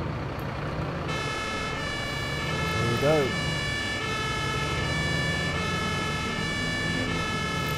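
Fire engine siren in the Emergency Call 112 firefighting simulator game, a steady tonal wail starting abruptly and holding over a low engine rumble, with a brief spoken remark partway through.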